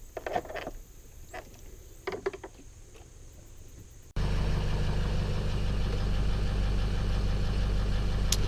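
A Ford F250 Super Duty 6.0L diesel starts after a few mechanical clicks and knocks, then settles into a steady, loud, close idle with a continuous low rumble.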